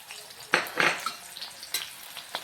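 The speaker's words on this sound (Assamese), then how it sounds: "এতিয়া তেলত মই পিঁয়াজটো দি দিম, জলকীয়া দি দিম" Onion and green chili go into hot oil in a home kitchen, producing a soft, close sizzle with a few sharper spits and clinks over a low hiss.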